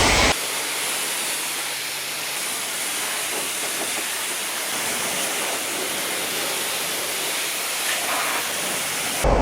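A high-pressure spray wand rinses a car at a self-service car wash, producing a loud, continuous broadband hiss of water jetting against the bodywork throughout.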